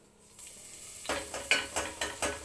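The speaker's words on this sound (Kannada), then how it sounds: "ಸ್ವಲ್ಪ ಜೀರಿಗೆ ಹಾಕಿ ಕರ್ಬೇವು ಸೊಪ್ಪು ಹಾಕ್ತೀನಿ ಮಸಾಲೆ ರುಬ್ಬಿರೋ ಪೇಸ್ಟನ್ನು ಹಾಕ್ತೀನಿ" Cumin, curry leaves and ground masala paste hit hot oil in a pan for pulao, starting with a quiet hiss that swells into a louder sizzle, followed by rhythmic metal stirring strokes close by.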